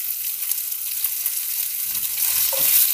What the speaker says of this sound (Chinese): 爆到啲蒜头同烟肉微黄就可以啦。 跟住加埋啲海参